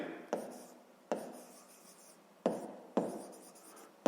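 Pen strokes on paper during a sixth-grade maths exercise, a series of short scratchy bursts each starting with a sharp tap and trailing off, close and quiet, with no talk.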